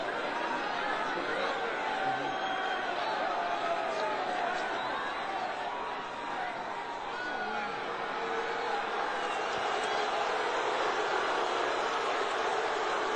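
A fight arena crowd murmurs and grumbles in disapproval, a steady dense wash of chatter with scattered laughter and no single voice standing out.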